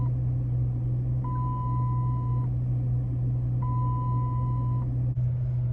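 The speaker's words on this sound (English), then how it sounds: "there was like all this beeping." Two long steady warning tones from a Chrysler 300 sound one after another, each about a second long, during a steering wheel angle sensor repair. They sit over a constant low hum from the car, and no one speaks.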